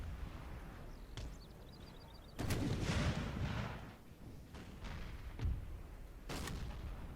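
Artillery barrage during a Napoleonic-era Battle of Moscow in Napoleon Total War, with repeated heavy booms and rumbling blasts spread over several seconds amid distant battlefield noise.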